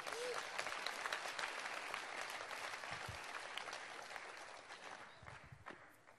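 Applause from a congregation during a Swedish church service, a soft, fairly distant patter of clapping that gradually thins out, with a few low thumps mixed in.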